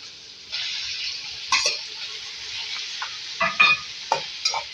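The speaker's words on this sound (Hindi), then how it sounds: "इसको अच्छी तरीके से मिक्स करेंगे और थोड़ा पकाएंगे।" Onions, green chillies and tomatoes stirred together in a pan, a soft steady hiss with intermittent scraping and clinking stirring strokes, close and clear, no voices.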